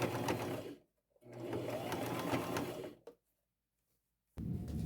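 A sewing machine stitches lace onto a boho duster made from a thrifted top and tablecloth, running in two long close bursts, then a short one, and starting again after a pause.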